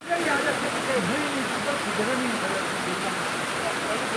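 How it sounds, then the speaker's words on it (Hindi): Mountain stream water rushes steadily along a road through the Astore–Deosai area, a broad continuous wash filling the scene, with someone talking over it throughout. "कितनी प्यारी पानी की साउंड आ रही है"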